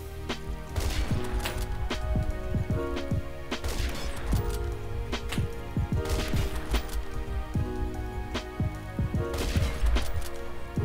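Rapid gunfire in the online shooter game Phantom Forces, dense bursts of shots and sharp cracks crowding each other for about eleven seconds with no pause, loud and constant, with no voices.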